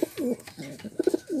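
Pigeons kept for street racing cooing close by, a few soft throaty rolling coos with short gaps between them.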